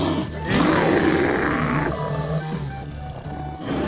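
A loud, growling dragon roar rumbles for a couple of seconds, then fades into a lower snarling grumble; a big beastly creature sound, no talking.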